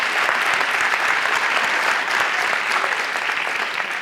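An audience at a book discussion claps steadily and loudly, a dense, even wash of hands lasting throughout with no break.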